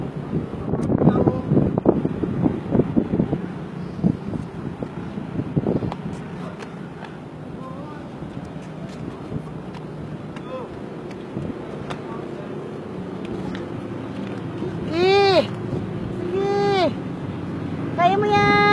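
Wind at sea buffets the microphone in a steady low rumble for the whole stretch, with voices talking over it and a few brief high calls near the end.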